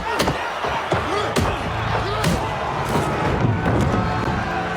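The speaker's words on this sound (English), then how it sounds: "the punches from Victor are just destroying this little guy" Punches thud in a heavyweight boxing bout from a Creed II film scene, with repeated sharp impacts and slams cutting through a noisy crowd that cheers and shouts in the background.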